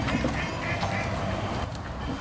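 Ducks quack several times outdoors amid steady wind and background noise, the calls moderately loud and close together, with no talk over them.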